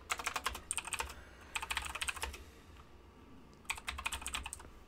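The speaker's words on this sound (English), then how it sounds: "I should type this out." Fingers type quickly on a computer keyboard during C++ coding work, close and quiet, in three bursts of rapid clicking keystrokes separated by short pauses.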